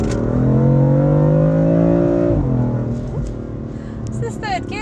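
A BMW M4 engine revs hard and high in third gear, a loud sustained rising whine that holds, then drops as the gear lets go, with faint voices in the cabin near the end.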